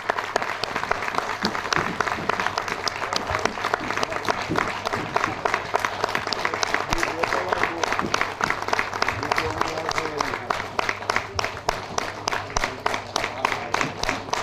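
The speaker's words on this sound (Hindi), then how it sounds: "जोरदार तालियों के बीच में" Loud, sustained audience applause fills a seminar hall in Ahmedabad, with dense steady clapping from a large crowd and a faint hum underneath.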